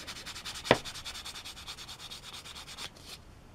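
Finer-grit sanding on a Tamiya 1/12 Yamaha YZR-M1 model part, a steady rhythmic back-and-forth rasp of about twenty quick close strokes with one sharper knock near the start, fading out toward the end.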